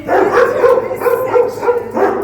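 Dogs barking at an animal shelter in Iran, in the heated indoor section for older dogs: several loud, close barks and yips follow one another in quick bursts.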